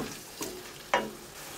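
Olive oil hits chopped tomatoes sautéing in a pan, giving a faint background sizzle with two brief sharp clinks or scrapes of a utensil against the pan, the second one louder; no talking.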